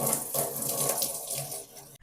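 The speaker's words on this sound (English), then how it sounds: "rinse it under running water" A microwave turntable ring from a Panasonic convection microwave oven is rinsed under running tap water: a loud, steady, close splashing stream that cuts off abruptly at the very end.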